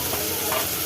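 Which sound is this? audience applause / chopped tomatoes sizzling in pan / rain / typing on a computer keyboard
chopped tomatoes sizzling in pan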